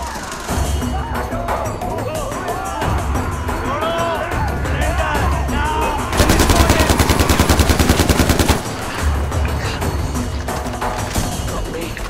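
Gunfire in the video game Far Cry 4 at an outpost, with loud continuous bursts of automatic fire and a steady rapid machine-gun stretch in the middle, up close over a dense game soundscape.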